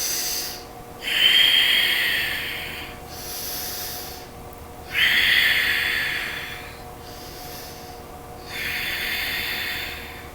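A person exhaling forcefully during core-focused yoga dips: three long, breathy hissing breaths, each rising sharply then fading, spaced a few seconds apart and close to the listener, with no talk.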